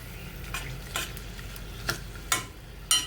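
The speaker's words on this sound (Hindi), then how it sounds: "तो मैंने अब डाल दिया ये खड़े मसाले। ये तड़क जाएंगे" Whole spices crackle and spit in hot oil at the start of an all-purpose gravy, a soft steady sizzle broken by several sharp pops spaced through the short stretch.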